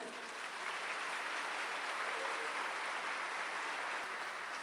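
A church congregation applauds together, a steady, dense wash of clapping that holds at an even level for the whole stretch with no speech over it.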